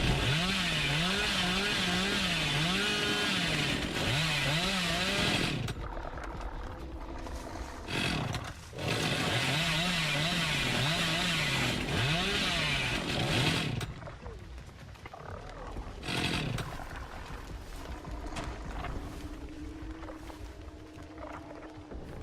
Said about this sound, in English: I would quit worrying about the chainsaws at this point with Rixa.